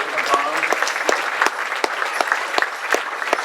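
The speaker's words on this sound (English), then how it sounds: "please give some applause" A crowd at a 2016 community school graduation claps for graduating seniors, a loud, dense wash of applause with sharp individual claps standing out near the microphone, a voice briefly audible underneath.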